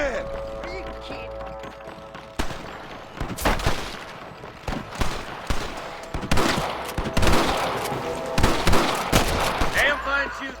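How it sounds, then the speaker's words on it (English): Gunfire in the Western video game Red Dead Redemption: a rapid fusillade of loud shots and bursts, some overlapping like a firefight, with hoofbeats and shouting voices mixed in over about ten seconds. "Damn fine shooting, boys."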